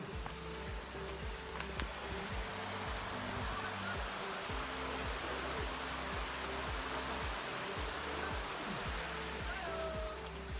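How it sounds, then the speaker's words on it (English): Steady broadband roar of the waterfall at Ammonite Falls near Nanaimo, a continuous rushing wash heard at some distance, with a low rhythmic thumping of footsteps or handling noise underneath and no talk. "think I hear the waterfalls. Do you guys hear it?"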